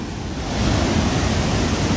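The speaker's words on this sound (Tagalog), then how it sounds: "sobrang malakas pa rin ang tapon ng tubig" Strong, steady rush of floodwater pouring out during flooding in Metro Manila, a dense broadband roar that holds constant and loud throughout with no pauses.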